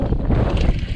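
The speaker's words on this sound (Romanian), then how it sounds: "Bate vântul și mai tare." Strong wind buffeting a microphone at a lakeside while fishing, a dense, steady low rumble with gusty swells, close and loud throughout.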